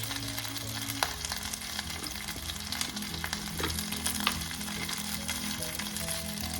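Garlic chunks fry in a pan for a Filipino pork hock stew with a dense, crackling sizzle and scattered popping clicks, over a faint tonal hum in the background.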